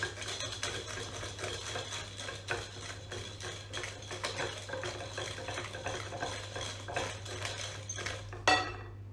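Buttermilk blueberry breakfast cake batter being hand-whisked in a bowl: a steady, close scraping and clinking of the whisk against the bowl, with a brief louder knock near the end and no talk.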